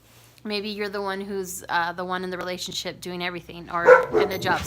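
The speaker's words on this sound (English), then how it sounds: "Sorry, that's my dog" A dog barks a few times in the background, short sharp yaps mixed in under someone speaking steadily close to the microphone.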